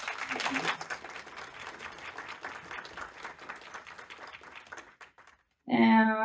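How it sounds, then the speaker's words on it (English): An audience at an AI presentation gives a round of steady applause that tapers away, followed by a brief burst of sound at the very end. "Big applause."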